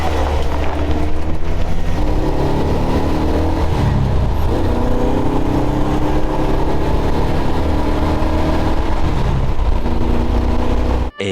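A 1969 Dodge Charger's engine roars at sustained high revs through a burnout, loud and close, the pitch surging and wavering as the tires spin, before cutting off abruptly at the end.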